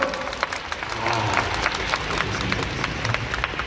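Festival concert audience applause with rhythmic clapping, fairly loud and continuous, with some voices mixed in beneath the crowd.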